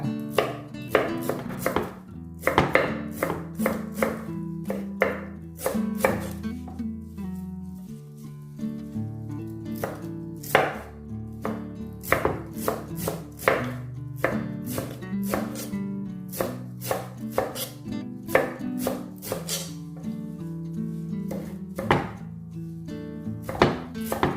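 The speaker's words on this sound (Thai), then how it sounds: "พาสลี่เราก็หั่นแช่แข็งทั้งสดๆอย่างนี้เลยค่ะ หั่นเล็กๆเนาะเอาไว้ทำสลัดค่ะ" Fresh parsley being chopped into small pieces for freezing, knife striking a board in quick irregular bursts of crisp close taps over a background of soft music, with no talking.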